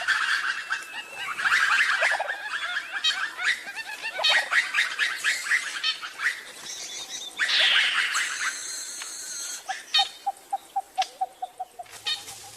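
Ring-tailed lemurs in forest raise overlapping alarm calls that spread through the trees, a dense chorus of yelping cries giving way to a rhythmic run of short, evenly spaced clicks near the end.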